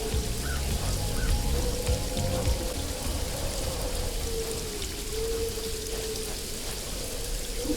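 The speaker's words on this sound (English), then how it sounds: "Now it's, raining." Rain falls steadily in the video game Paradise Killer, a dense even hiss of drops with a faint low rumble early on, continuous and without voices.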